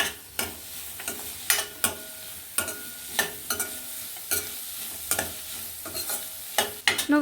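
Asafoetida tempering frying in hot oil for a bottle gourd curry, a steady close sizzle broken by repeated sharp spoon scrapes and taps at a brisk, irregular rhythm, without speech.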